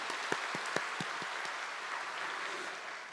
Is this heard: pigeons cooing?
no